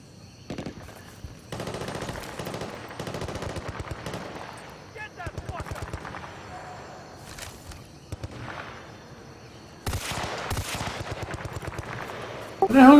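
Automatic gunfire from the Bad Company 2 video game, sounding in repeated rapid bursts of varying loudness, some distant and some closer, with a sharper, louder volley near the end.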